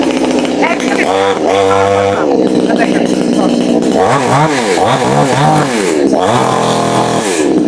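A 110 cc chainsaw engine starts and runs loud and close, rising and falling in rhythmic revving bursts, with someone talking over it.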